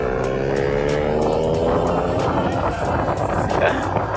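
Aftermarket exhaust on a Yamaha R15-style motorcycle revving loudly and continuously, its rising engine note droning close by with no talk.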